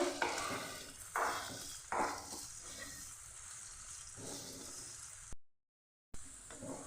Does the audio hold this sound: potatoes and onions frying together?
yes